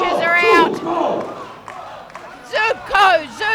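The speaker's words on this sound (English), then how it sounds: "Everyone's cheering for her." A crowd yells and cheers for a lifter at the 2017 World Classic Powerlifting Championships, women's open 84 kg, a loud close burst of shouting voices that rises, dips, then surges again in short waves.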